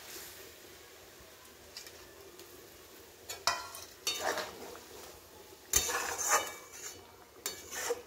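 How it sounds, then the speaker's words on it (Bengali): Fried paneer pieces going into simmering gravy in a kitchen pan for kaju paneer masala, heard as scattered metallic clinks and scrapes of a spoon against the pan with a faint sizzle underneath, a few sharper knocks standing out. "ঝোল ফুটে গেছে, আমি এবার ভেজে রাখা পনিরগুলো দিয়ে দিচ্ছি।"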